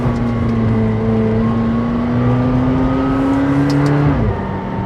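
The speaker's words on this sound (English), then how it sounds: "It takes a while to get moving, but once the boost comes on," A McLaren 720S engine revs up loud and steady with a rising turbo whine, pulling hard for several seconds before easing off near the end.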